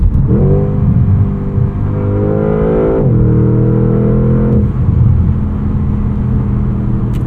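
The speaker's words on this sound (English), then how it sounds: "It's an enjoyable amount of power combined with the sound from this V8." A 2025 Porsche Panamera GTS V8 pulls hard under acceleration, its engine note rising through the revs, dropping sharply at a gear change and climbing again, loud and close with no voices.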